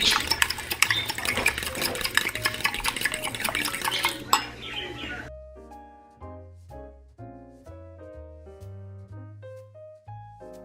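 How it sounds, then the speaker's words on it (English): Eggs with salt, pepper, milk and cheese are whisked briskly in a bowl, giving rapid, rhythmic clinking and splashing for about five seconds, after which soft piano-like music takes over. "I'm just going to whisk my eggs"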